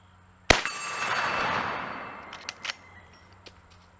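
A single loud .44 Magnum gunshot firing a Lehigh Defense 265 grain solid copper wide flat nose bullet, a sharp crack followed by a long ringing decay, with a few faint clinks afterward.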